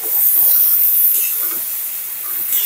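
Vegetables dropped into spice masala and stir-fried in a home kitchen pan, giving a steady, fairly loud hiss and sizzle across the whole stretch with no pauses.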